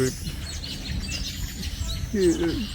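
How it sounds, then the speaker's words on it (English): Weaver birds chirp and call in short bursts over steady outdoor background noise, with a clearer, louder call near the end, in Togo. "weaver birds there"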